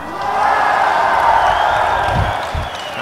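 Esports fans in a crowded hall at an ICCup versus NaVi consolidation final roar and cheer in a steady, dense swell of crowd noise that fades slightly at the end.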